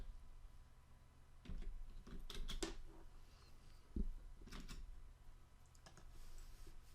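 Several short bursts of keystrokes on a computer keyboard, quiet and close, with a few separate clicks and a pause between runs, set against low background hum.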